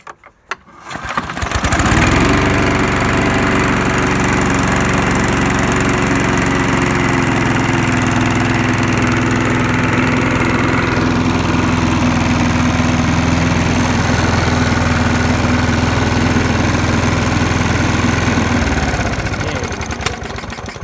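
A flooded lawn mower engine catches after a pull and runs steadily and loud for nearly twenty seconds, a rough droning roar with no talking.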